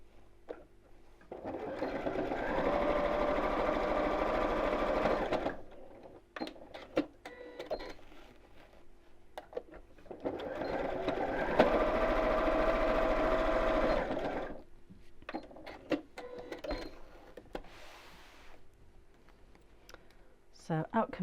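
A domestic sewing machine stitches across the bottom of a tie tote bag in two steady runs of a few seconds each, with a brief pause between them and quieter handling clicks and rustles around the bursts.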